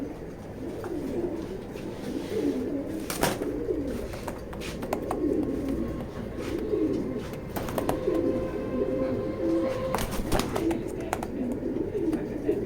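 Pigeons in a loft give repeated soft cooing calls, with sharp wing flaps and scuffles scattered throughout, close by over a low background hum.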